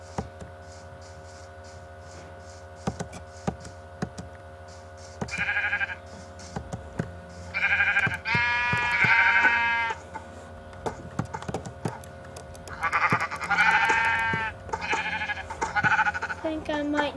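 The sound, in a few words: sheep bleating in Minecraft video game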